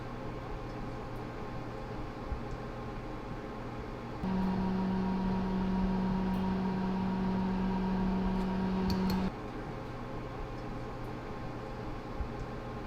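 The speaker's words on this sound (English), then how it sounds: "turn on all 3 fans to full speed using the fan controller" Three Noctua 40mm fans inside a router spin at full speed, producing a steady low hum with a tonal whine that starts abruptly, holds for about five seconds over background noise, then cuts off.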